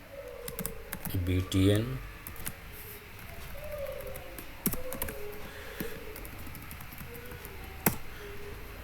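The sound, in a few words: typing on a computer keyboard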